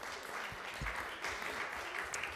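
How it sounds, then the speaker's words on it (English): Applause and cheering from a crowd at a city council committee hearing, a steady wash of clapping lasting a couple of seconds, heard from a distance with no clear voices over it. "where's all that cheering come from? It's us."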